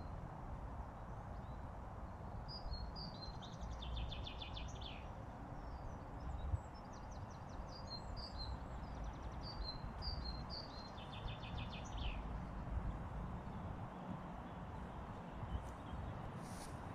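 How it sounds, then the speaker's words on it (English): Birds sing outdoors at a forest school, several short chirping phrases repeating in the distance over a constant hiss of wind and insects, with no talking. "How many different birds? How many natural sounds? All these things you can listen for."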